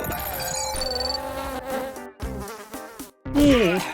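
A housefly buzzes in a cartoon scene, its drone wavering over about four seconds amid other playful sound effects and a brief vocal sound near the end.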